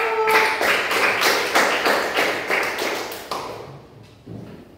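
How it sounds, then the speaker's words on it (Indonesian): A classroom group claps in a burst of sharp, fairly close hand claps for about four seconds that thin out and fade toward the end, with no talking. "Tepuk tangan untuk kelompok 1."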